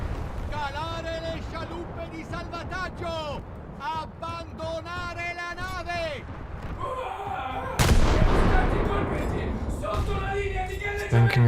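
Heavy booming shots from a warship's rear guns in a naval video game, a sharp loud blast partway through over engine and water rumble, with someone talking throughout.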